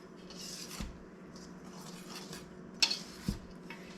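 Dry homemade pancake mix from pantry staples being stirred in a bowl, soft close scraping and rubbing with a couple of sharper utensil clinks against the bowl, fairly quiet.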